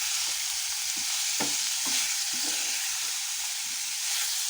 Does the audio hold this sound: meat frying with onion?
yes